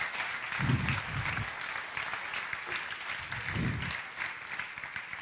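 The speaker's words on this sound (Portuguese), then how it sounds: "Vamos aplaudir a Deus pela vida do seu servo." A church congregation claps steadily, a dense patter of applause that swells and holds, with no talking over it.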